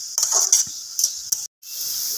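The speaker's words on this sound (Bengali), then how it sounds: "মা থোরটাকে একটু খুন্তির সাহায্যে ভেঙে ভেঙে দিচ্ছে, যাতে থোরটা একটু গলে যায়।" Banana stem fries in a pan while a metal spatula breaks it up and stirs it: a steady oily sizzle under several sharp scraping clacks against the pan, with a brief silent gap before the sizzle resumes.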